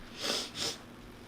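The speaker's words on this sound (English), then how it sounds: "Sorry, I was sneezing and now I'm all sniffly." Two quick, soft sneezes or sniffs from a person in a car, breathy bursts of air about a third of a second apart, faint and close, with no talking.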